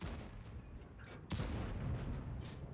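A single sharp, booming tank cannon shot in a video game, a Leopard 1, with a short rumbling tail, set against a steady low background rumble.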